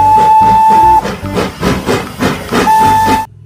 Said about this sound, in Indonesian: Lihat teman-teman, ini kereta Thomas.